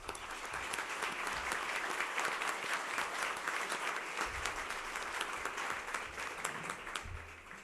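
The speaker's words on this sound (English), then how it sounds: "Please, with a round of applause." A large audience applauds the sponsors at a university event with a broad, even wash of clapping, steady and moderately distant throughout.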